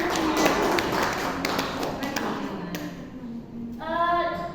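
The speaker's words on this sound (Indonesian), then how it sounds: "kita beri aplaus dulu" Classroom applause during a micro-teaching lesson on batik motifs, a dense spell of close, loud clapping that fades out and gives way to a voice speaking.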